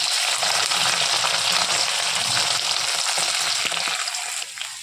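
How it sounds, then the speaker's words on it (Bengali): Potatoes frying in hot oil in a wok for aloo dum, with bay leaf and garam masala, a loud, dense, continuous sizzle close up that eases slightly toward the end. "এখন আলু দিয়ে দিচ্ছি আমি"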